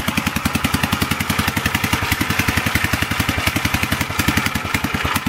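A 1947 Gravely tractor engine idles close by with loud, rapid, even chugging pulses that run steadily throughout.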